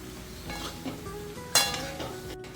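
Dry Bombay duck being stir-fried in a pan with oil and ginger-garlic paste over low heat, soft scraping and stirring clinks with a brief louder clatter, close and quiet without talk.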